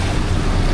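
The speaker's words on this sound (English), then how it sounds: "Some waves hitting it." Waves break against the shore at Stratford Point on Long Island Sound, a steady broadband wash mixed with wind noise on the microphone and no voices.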